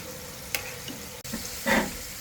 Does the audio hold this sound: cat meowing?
no